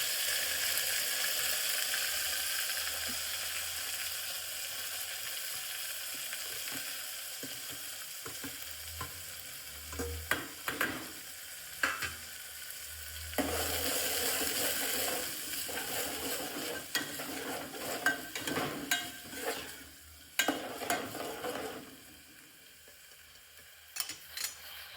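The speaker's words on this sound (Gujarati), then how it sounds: "તો આપણે હવે લીલું લસણ, લીલી ડુંગળી અને લીલા મરચાં કટિંગ કર્યા હતા એ આપણે એડ કરી દઈએ પહેલાં." Chopped green garlic, green onion and green chilies frying in a pan for a rustic village-style green chickpea curry, with steady sizzling and occasional stirring scrapes and clinks throughout.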